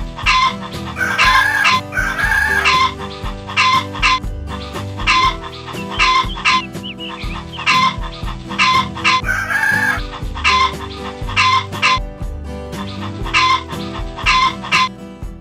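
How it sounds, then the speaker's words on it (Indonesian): Roosters crow repeatedly and close by while hens cluck around them at a farm park in Puncak, Bogor, a busy farmyard chorus with no talking. "Nggak cuma burung aja, di sini juga ada aneka ras ayam."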